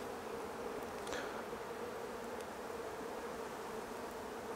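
A dense, steady hum of many honey bees buzzing close by in an open hive, with a few individual bees droning past over the continuous drone.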